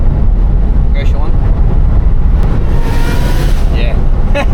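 A Holden Monaro CV6 engine revs with its exhaust valve shut, a loud, steady broadband roar with rushing wind buffeting and no clear pitch changes.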